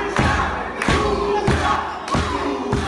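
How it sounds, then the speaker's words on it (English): A wrestling crowd in Los Angeles cheers for Los Luchas in rhythmic chant bursts, with heavy stomps or claps landing roughly every half second, loud and close. "Crowd here in LA getting behind Los Luchas"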